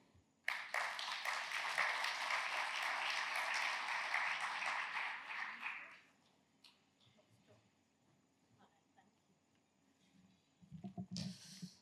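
An audience at a global health conference applauds to welcome Dr. Priya Agrawal, with loud, dense clapping that lasts about five seconds and then fades into quiet room noise before a voice starts.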